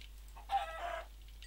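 Minecraft chickens give a short faint clucking burst, quiet and alone with no talk.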